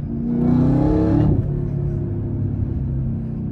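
A Camaro ZL1 1LE pulls hard in first gear, its engine rising in a loud, close, throaty roar before the revs break off with the shift and settle into a lower rumble.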